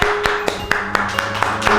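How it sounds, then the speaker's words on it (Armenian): Hand clapping at a family day care, about eight sharp evenly spaced claps, close and loud, with a faint voice underneath. "Ծափերը։"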